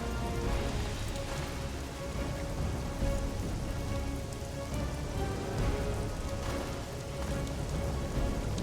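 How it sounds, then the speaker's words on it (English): Steady rain pours in The Witcher 2: Assassins of Kings, a dense, even hiss of drops on surfaces that holds without a break throughout, fairly loud with no voices over it. "I think it's rained a bit too much."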